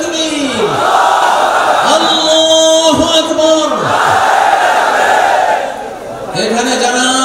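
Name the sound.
crowd chanting Allahu Akbar in response to takbir call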